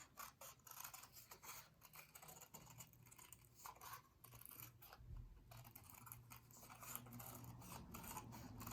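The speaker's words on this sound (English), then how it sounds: "Rough cutting is when you cut around the shape to make the paper a little bit more manageable." Paper is rough-cut with scissors for a library lion craft, producing quiet, close, repeated snips and rustles at an irregular pace with small pauses as the paper is turned.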